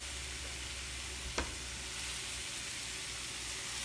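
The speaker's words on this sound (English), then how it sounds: "We just set this aside so we can cook these Steak-Umms in the entire frying pan here." Thinly sliced Steak-Umm meat sizzles quietly in a small frying pan, a soft, steady hiss throughout with one brief sharp click of a utensil.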